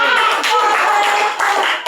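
Scattered classroom applause from a group of students, brisk overlapping hand claps filling the room for a couple of seconds, steady and fairly loud with faint voices mixed in.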